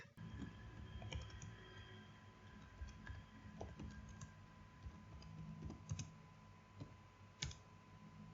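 Text typed on a computer keyboard, a quiet, close run of irregular key clicks with a few louder taps scattered through it.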